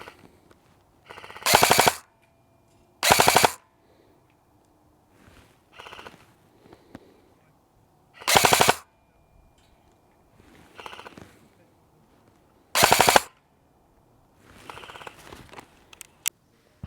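An AATV Double Eagle M908A airsoft replica fires .28 BBs in short loud bursts of rapid cracks spaced several seconds apart during a range test, with faint softer shots and quiet gaps in between.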